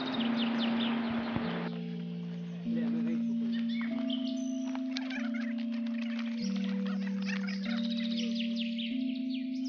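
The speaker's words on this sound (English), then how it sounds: "Can you hear the sounds of birds?" Birds call in a forest at Dang Wildlife Sanctuary in Gujarat, with scattered chirps and fowl-like clucks at moderate distance over a steady sustained tonal drone.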